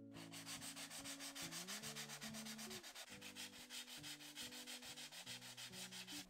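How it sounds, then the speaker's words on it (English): Molding paste on a canvas being sanded by hand, a steady rasping rub in quick back-and-forth strokes, close and continuous without talk, with a faint tonal hum underneath. "you can definitely sand the moulding paste, which makes it a slightly smoother finish"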